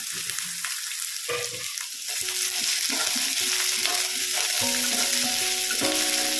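Sliced onions and a large potato fry in a pan for an omelet curry, a steady close sizzle with scraping stirs throughout and a few bright clinks of a utensil against the pan toward the end.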